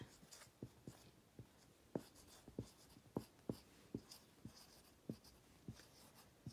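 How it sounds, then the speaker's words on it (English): A pen or pencil writes out the answer to a math word problem, giving a series of close, crisp taps and short strokes in an uneven rhythm with quiet gaps between marks. "I'm going to write Chase has 48 baseball cards"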